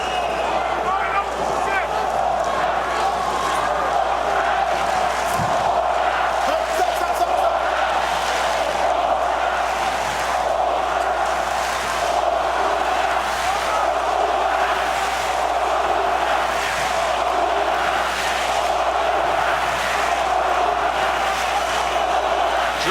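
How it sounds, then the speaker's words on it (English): Large German crowd chanting at a heavyweight boxing match, a dense, loud, continuous roar of voices with rhythmic swells filling the arena throughout. "German crowd chanting as 2 Eastern European-born fighters square off in the ring"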